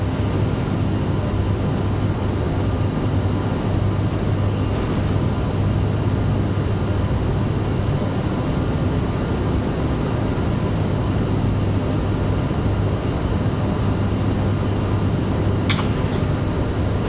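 A simulated Aerosoft CRJ jet climbs in Microsoft Flight Simulator 2020, its engine roar a constant, dense, steady drone filling the whole stretch without a break or any speech.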